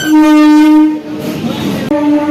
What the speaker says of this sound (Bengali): ওই একটা বজবজের ট্রেন চলে গেল